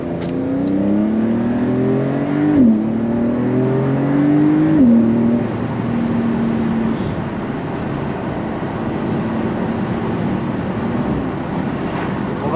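A Porsche 911 Carrera S (922), rear-wheel drive, accelerates gently on a wet road, engine note rising through a couple of gear changes before easing into a steady cruise with road and tyre noise.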